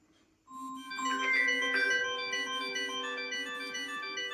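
Incoming-call ringtone from a Weofly Vive 2 rugged smartwatch: after a brief quiet start, a loud, repeating electronic melody of bright tones plays steadily and close by, with no talking.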